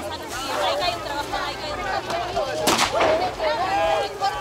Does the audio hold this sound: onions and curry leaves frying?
no